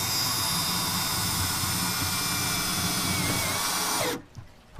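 A power drill drives self-drilling screws into a cart built from scrap materials, whining loud and steady for about four seconds before cutting off abruptly.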